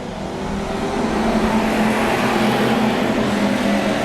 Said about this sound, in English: Green flag is out, and we are racing.